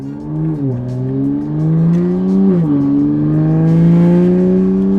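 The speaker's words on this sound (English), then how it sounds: "we're just gonna have John drive the car" A car engine on ethanol fuel revs loudly nearby, its pitch climbing in steps between gear changes, with no talking.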